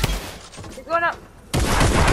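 Gunfire in Fortnite Battle Royale: a loud blast at the start, then a voice calls out briefly before a burst of sustained heavy shooting noise.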